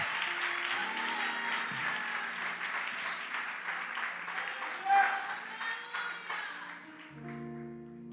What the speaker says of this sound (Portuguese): E as palmas ouve o Senhor